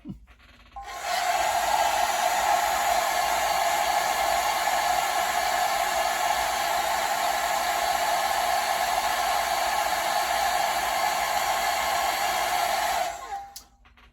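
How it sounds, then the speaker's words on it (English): A hairdryer roars at a steady high whoosh for about twelve seconds, close by, drying paint on a model kit chrome grill, then shuts off. "Gonna force dry that just a little bit with a hairdryer."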